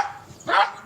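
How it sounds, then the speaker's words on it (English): A small dog gives a single short bark close by, one sharp burst standing out against a quiet background. "Cute little dog."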